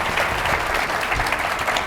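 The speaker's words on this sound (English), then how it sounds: "Round of applause for Emma" An audience at a keynote session gives a round of applause for a presenter, with dense, steady clapping from many hands at an even, fairly loud level throughout, with no talk.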